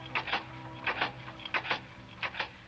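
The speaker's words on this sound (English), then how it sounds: "The Osage wigwam's gossipy clatter as she came off the press." Rhythmic mechanical clatter of an old newspaper printing press in a print shop, heard as a radio drama sound effect, with bursts of noisy clacking repeating about every half second at moderate level and no talk.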